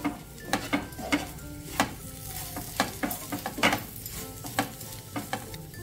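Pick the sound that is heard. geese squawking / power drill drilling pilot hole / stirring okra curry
stirring okra curry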